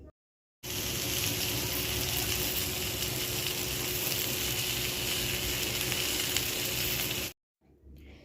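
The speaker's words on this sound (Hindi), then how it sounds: "तो ये तापर मुझे पोटल को भाजी देती" Pointed gourd (potol) fries in a pan with a loud, steady hiss and crackle that starts abruptly, holds evenly for several seconds, then cuts off into near silence.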